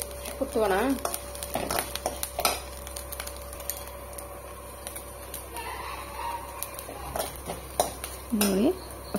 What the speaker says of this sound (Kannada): ಇವುಗಳನ್ನೆಲ್ಲ ಹಾಕಿ ಚೆನ್ನಾಗಿ ಫ್ರೈ ಮಾಡ್ಕೊಳ್ಬೇಕು